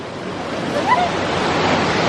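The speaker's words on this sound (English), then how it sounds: "We are at the waterfall again." A waterfall's steady broadband roar at a swimming spot where dogs play, loud and close, constant throughout with no breaks, a faint higher whistle or call briefly riding over the rushing water.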